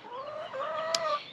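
A hen on a sheep farm squawks and clucks in a loud, drawn-out call with a sharp peak near the end, heard from a middle distance without any talking.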